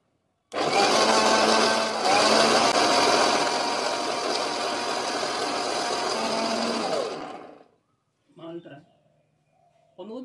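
A blender mixing a milkshake of milk and nuts whirs loudly and steadily for about seven seconds, then stops abruptly. A voice speaks briefly afterward.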